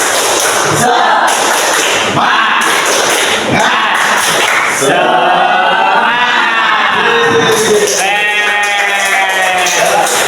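A classroom group performs a 'tepuk semangat' clapping chant: loud, dense chanting voices with rhythmic thumping claps, rising to sustained shouted tones near the end.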